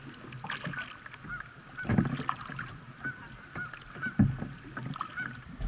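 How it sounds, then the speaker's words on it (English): A couple of Canada geese honk in short bursts, a little distant, on water beside a moving kayak in misty weather, with light paddling splashes and water movement running underneath. "a couple of Canada geese"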